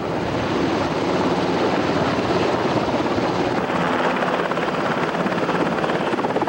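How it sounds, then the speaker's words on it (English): A helicopter hovers overhead while a rescuer is lowered on a cable toward the water, roaring steadily and loudly, its rotor and engine noise constant and dense throughout with no pauses. "lowered on a cable that's suspended from a helicopter"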